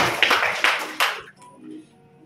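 Wedding guests at a Buddhist marriage ceremony in a vihara applaud the couple's vows, a short burst of close clapping that breaks off after about a second and leaves quiet room tone.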